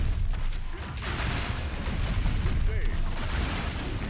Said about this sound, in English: Oh, my ion cannon.